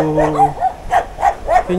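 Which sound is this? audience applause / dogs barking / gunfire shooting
dogs barking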